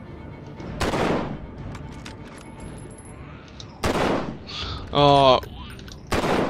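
Gunshots in The Walking Dead: Survival Instinct ring out as a few sharp, loud separate blasts spaced apart, with a brief spoken exclamation between them.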